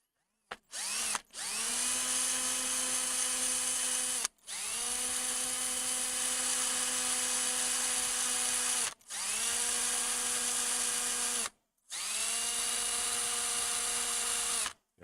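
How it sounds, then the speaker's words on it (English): A power drill drilling through plastic whines in four long bursts separated by short pauses, loud and close, its pitch holding steady through each run. "I'm amazed that this plastic is holding back this this drill."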